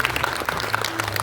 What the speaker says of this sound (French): C'est bien, merci, on applaudit.